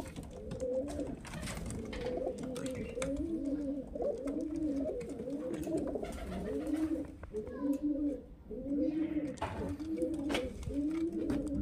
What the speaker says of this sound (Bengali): এই যে দেখুন পায়রা দেখুন, কোয়ালিটি দেখুন ফ্রেন্ডস